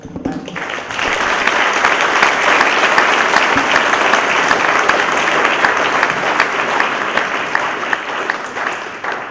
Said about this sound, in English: please give these guys a big round of applause